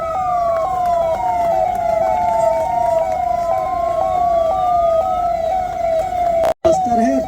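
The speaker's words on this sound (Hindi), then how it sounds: "सायरन बजाते रहे" Wailing sirens from a fleet of 112 helpline emergency vehicles at a flag-off event in the Rajnandgaon area, a loud continuous rising-and-falling tone that runs throughout and cuts out briefly near the end.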